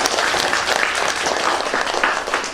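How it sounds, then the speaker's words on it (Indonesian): A church congregation in a parish community gathering gives dense, steady applause with many hands clapping together, loud and sustained throughout. "Maka mari kita berikan aplaus kepada mereka."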